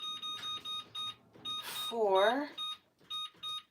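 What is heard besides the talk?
kitchen timer beeping while being set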